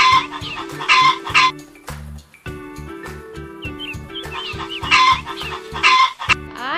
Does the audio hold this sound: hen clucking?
yes